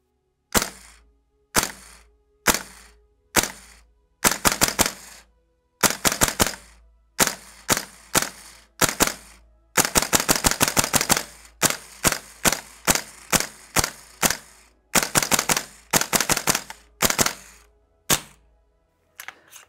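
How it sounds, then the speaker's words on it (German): Gas blowback airsoft rifle, a VFC BCM MCMR, dry firing with the bolt catch held down: the heavy bolt carrier slams back and forth in sharp, loud metallic cracks, first as single shots, then in rapid bursts, with no talking. "So, ich mache Dry Fire, bedeutet, ich halte den Verschlussfang gedrückt."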